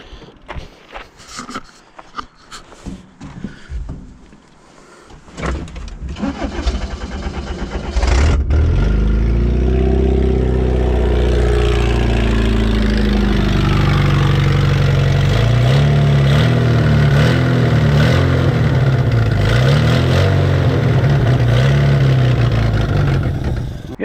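A Toyota Hilux that sat for a very long time on a mountain cranks, catches and settles into a loud, steady run, its engine note wavering a little as it idles on.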